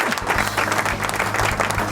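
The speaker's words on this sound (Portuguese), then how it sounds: "Palmas pra ele!" Virtual audience applause greeting a podcast co-host, a steady wash of clapping and crowd noise filling the short moment alone at moderate level.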